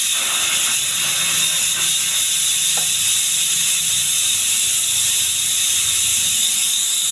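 Pressure cooker on the stove cooking horse gram, releasing a loud continuous high steam hiss that holds steady throughout with no pauses.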